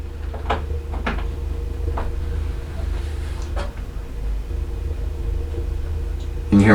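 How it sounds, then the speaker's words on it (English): A young child bumps and rattles at a closed door, giving several soft knocks and thuds spaced irregularly over a low steady hum indoors. A louder clatter comes at the end. "You can hear my daughter trying to open the door."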